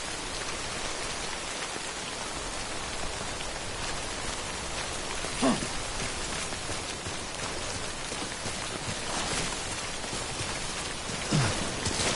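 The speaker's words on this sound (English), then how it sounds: "Don't stay out in the rain any longer than you have to." Steady, dense timefall rain from the Death Stranding video game pours evenly throughout, a continuous hiss of drops on surfaces with a couple of brief louder patters, no talk.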